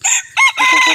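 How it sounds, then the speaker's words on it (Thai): A bantam rooster crows loudly and close by, with bantam hens clucking in short bursts around it, on a hot evening. "นู่นไก่น้อยมาเล่นแล้วผม"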